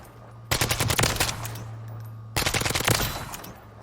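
Kastov 545 assault rifle fired in Call of Duty Warzone, two sharp rapid full-auto bursts of close, loud gunfire separated by a short pause.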